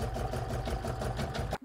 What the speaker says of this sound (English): I'm going to pop that in my machine and stitch round number two